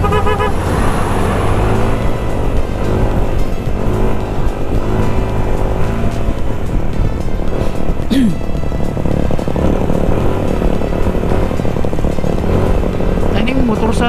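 Steady, loud traffic roar heard while riding a Yamaha NMAX scooter toward Los Baños, Laguna, with motorcycle engines nearby and a couple of short horn toots over the continuous road noise.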